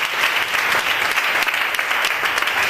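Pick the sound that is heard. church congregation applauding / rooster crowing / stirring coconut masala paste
church congregation applauding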